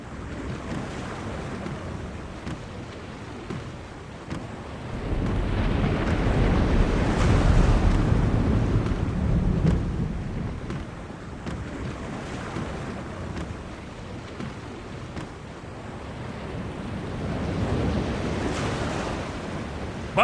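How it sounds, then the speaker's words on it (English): Storm at sea aboard a sailing ship in the game The Longest Journey: wind roars and waves crash in rolling surges that swell loud and ease off, with no voices. "The storm is closing in."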